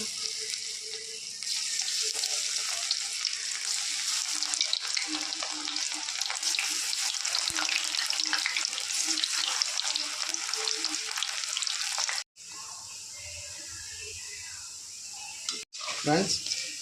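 Cauliflower 65 deep-frying in hot oil in a kadai, a loud, steady close-up sizzle and crackle that runs on and breaks off briefly near the end, with a voice talking over it.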